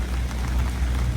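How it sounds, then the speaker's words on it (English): Steady rain pours down at the Pomona drag strip, a close, even hiss of drops on wet surfaces with no voices over it. "It's still freaking raining."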